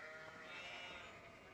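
Sheep in a Nancy Drew game bleat in a brief, clear, close cry that wavers and fades over about a second and a half, with no speech over it.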